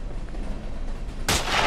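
A single gunshot in a Wild West video game, a sharp loud crack arriving late after quiet ambient background, with no talking.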